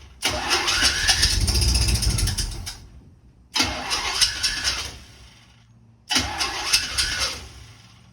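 A Chevy 350 engine cranks three times in a row after its fuel lines were emptied, each loud starter-driven churning attempt lasting a couple of seconds before cutting off, without catching to a steady idle.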